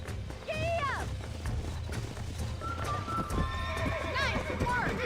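Horse in the game Red Dead Redemption neighing in sharp whinnies over galloping clip-clop hooves, close and busy with a voice talking over it.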